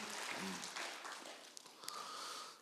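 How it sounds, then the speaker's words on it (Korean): Applause from a congregation at a New Year blessing revival service in a church, diffuse and steady across the whole stretch, with a brief voice heard near the start. "박수 한번 쳐드리시죠"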